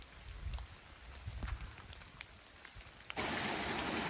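Rain falling along the Appalachian Trail at a beach campsite, starting as scattered drops and light patter, then abruptly swelling into a steady, dense hiss of rainfall close by for the final second.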